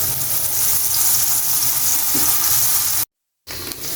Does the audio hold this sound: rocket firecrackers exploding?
no